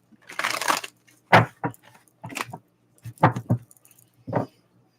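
A deck of tarot cards is shuffled in short bursts of riffling and slapping, close and crisp, with pauses between handfuls.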